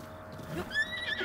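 A horse in The Legend of Zelda: Breath of the Wild gives a brief, fairly faint neigh with a rising, wavering whinny, faint hoof clops beneath it, and no talking.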